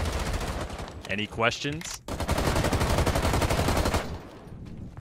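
Rapid automatic gunfire with recoil in Rainbow Six Siege, dense and loud across most of the stretch, briefly broken by a spoken line and then easing off near the end.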